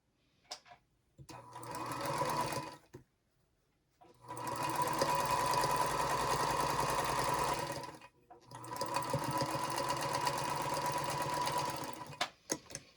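A sewing machine stitches fabric for a hexagon potholder, running in three whirring bursts of a few seconds each, with brief pauses and small clicks between them, close and clear with no talk.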